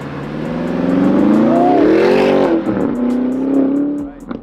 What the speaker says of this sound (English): Time started, it's going. Porsche Turbo GT on the track.